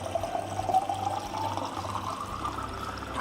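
Filtered water from a PurePlus WFS5300A under-sink filter system pours into a cup, a soft steady trickle at close range with no talking.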